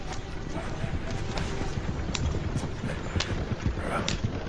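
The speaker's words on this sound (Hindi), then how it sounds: "और जब घोड़ा गाड़ी उसकी नजरों से ओझल होने लगी" Hooves of a horse-drawn carriage clip-clop in an irregular rhythm over a dense, noisy background, with a voice speaking over them throughout.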